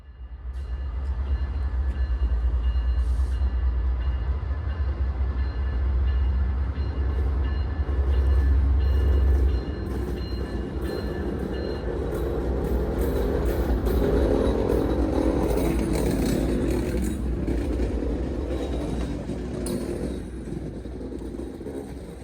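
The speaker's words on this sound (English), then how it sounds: "the terminal dispatcher updates the signal to a restricting, and Amtrak Extra 105 can proceed to North Station" An Amtrak train rolls toward Boston's North Station during rush hour, a heavy low rumble of engine and wheels that swells and eases, then gives way to rattling, clanking railcar noise as it passes close by.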